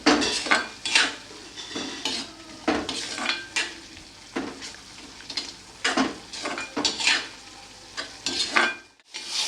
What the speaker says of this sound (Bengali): এটা আমি এখন 10 মিনিট ভালোভাবে নাড়তে থাকবো যতক্ষণ না ঝুড়ো ঝুড়ো হয়ে আসছে